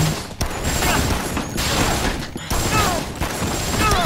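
Rapid automatic gunfire from the video game Dead Rising crackles through the scene in dense bursts, filling nearly every moment with loud, overlapping shots and mechanical clatter, with brief gaps between volleys.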